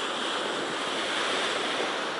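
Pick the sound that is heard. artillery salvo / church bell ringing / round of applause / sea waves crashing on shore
sea waves crashing on shore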